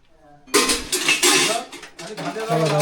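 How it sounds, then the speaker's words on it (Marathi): Cooking pots and dishes clatter and clink as they are picked up and handled close by, in bursts of metallic knocking and scraping, with voices talking over them. "बघा भांडी घ्यायला सुरुवात केली"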